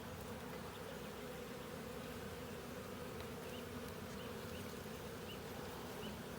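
Honey bees buzzing at an open beehive during an inspection, a dense, continuous drone of many insects close by with no voices.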